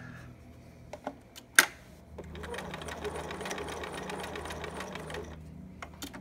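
A sewing machine topstitches Velcro onto a small preemie shirt, starting with a few clicks and taps, then settling into a steady, close, continuous whirring run of stitches for several seconds before stopping.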